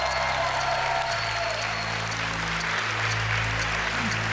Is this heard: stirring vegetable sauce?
no